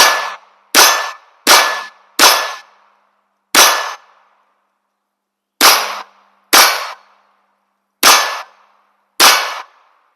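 Nine sharp .22 shots from a Smith & Wesson 22X pistol ringing off steel targets, each crack followed by a short metallic clang, fired in uneven bursts with a pause midway, loud and close.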